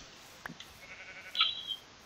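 Minecraft sheep bleat, a single short wavering cry near the end following a couple of faint clicks, quiet and alone against a soft background hum.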